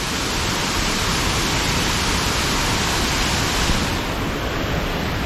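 Water rushing over a weir on a castle trail, a dense, steady roar of broadband noise that holds without letup, close and loud, with no talk.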